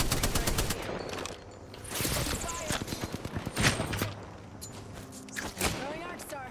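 Automatic gunfire and rapid fusillades from an Apex Legends firefight, bursts of shots crackling in clusters across the whole stretch with a few heavier booms, loud and close, mixed with game voice lines and talk.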